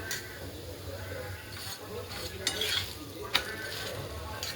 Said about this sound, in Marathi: आता आपण हे पण थालपीठ पलटून घेऊया छान असं थोडा गॅस फुल सोडूया